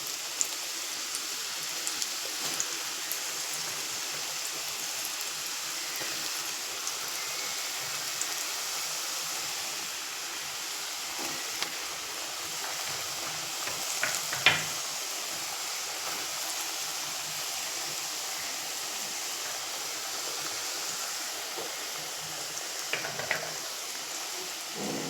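Potato finger chips frying in hot oil give a steady, even sizzle with a fine crackle, close and constant, with a few louder pops scattered through.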